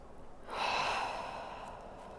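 During a heart-opening yoga flow, a single soft, deep breath rises and slowly fades, close and fairly quiet, with no talking over it.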